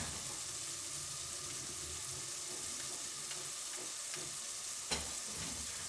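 Masala for bheja fry sizzling and being stirred in a pan, a continuous close crackle with scattered scraping taps and one sharper clink near the end, no voices.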